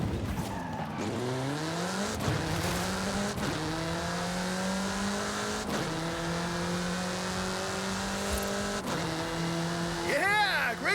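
A race car in the Forza Horizon game accelerates hard through repeated gear shifts, its engine note climbing in pitch again and again, loud and close, with a few tire squeals near the end.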